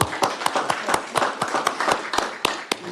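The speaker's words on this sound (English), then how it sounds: "You're getting applause" Audience applause at a town council meeting and public hearing, a small crowd clapping steadily in a room, individual claps distinct and fairly close, no talk over it.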